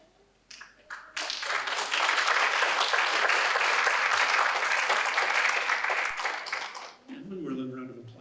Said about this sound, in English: And one more little round of applause, sir.